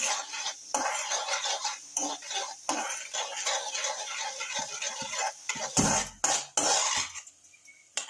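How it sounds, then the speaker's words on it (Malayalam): Chopped ginger fries in hot oil in a pan as a metal spoon stirs it, giving a steady close sizzle with scraping and clinking strokes against the pan and a few louder knocks. "ഇഞ്ചി ചെറുതായി കളറായി വരുന്നുണ്ട് ഇഞ്ചി"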